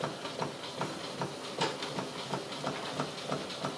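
PM Research model steam engine running on steam from an alcohol-fired boiler, a quick steady chuffing and hissing rhythm, close and fairly even throughout.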